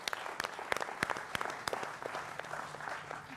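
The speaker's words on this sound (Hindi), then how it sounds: "जनता जनार्दन के लिए जोरदार तालियां" A studio audience on a televised political debate show applauds, sharp separate claps that are fairly faint and thin out toward the end.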